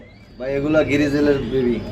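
Grizzle pigeons at a large pigeon farm give a close, loud throaty coo lasting over a second, with a faint voice or other birds around it.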